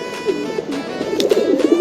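Pigeons cooing in a home loft, a paired cock and hen among them: continuous low, throaty rolling coos, close and fairly loud, with overlapping calls and no talking.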